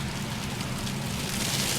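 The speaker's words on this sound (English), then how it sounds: "hail coming down." Hail mixed with snow pelts a car being driven through a massive blizzard on Long Island, a dense, even hiss of countless small impacts that stays constant throughout.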